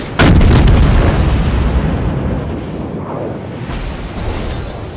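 Heavy ship gun volley in the World of Warships naval game, a loud booming blast that opens sharply and rolls into a long rumbling decay, with a faint later echo of distant firing.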